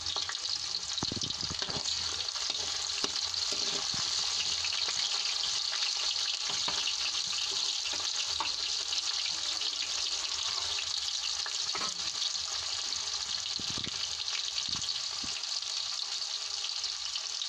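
Finely chopped onion sizzling with cumin seeds in a hot pan, a steady, close frying hiss with occasional stirring scrapes throughout.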